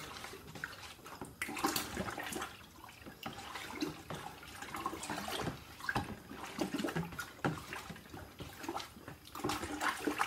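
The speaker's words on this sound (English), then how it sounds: "Pre-sterilised spoon, give it a good stir, and aerate it." Spoon stirring and aerating homemade blackberry wine in a fermenting vessel, giving a continuous sloshing, swirling liquid wash with repeated splashy surges, fairly close and with no talking.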